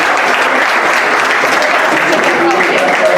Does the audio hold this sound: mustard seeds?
no